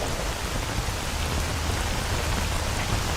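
Rainfall in the S.T.A.L.K.E.R. Anomaly video game, a dense, steady hiss of drops pattering on surfaces, close and unbroken, without any voices.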